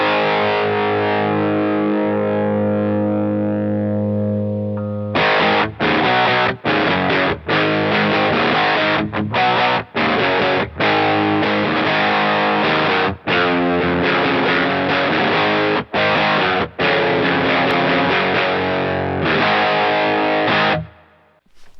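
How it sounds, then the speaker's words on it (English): Electric guitar with a humbucker pickup, heavily distorted and sent through a wireless unit: a long sustained chord rings out, then a loud run of chugging, palm-muted riffs with short stops before the notes fade. "So let's kick on some distortion here with a humbucker,"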